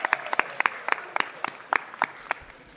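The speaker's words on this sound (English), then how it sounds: "Let's give ourselves a round of applause." Sparse, scattered clapping from a small number of people in a city council chamber, a few distinct hand claps in a loose rhythm over a quiet room.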